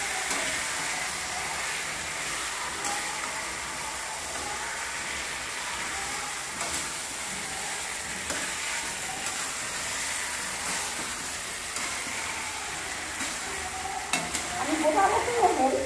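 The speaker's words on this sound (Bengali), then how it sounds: "এখন আমি দেখে দিয়ে মাংসটা ভালো করে কষাবো।" Chicken pieces stir-fried for Bengali chicken kosha crackle in a hot pan, a continuous close sizzle with occasional scraping strokes, growing busier and louder near the end.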